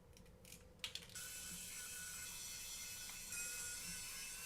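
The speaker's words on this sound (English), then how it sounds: "I'm just gonna take the screws out" Small screws being backed out with a screwdriver, a few quiet clicks and taps followed by a steady, close, whirring ratchet-like buzz that continues evenly to the end.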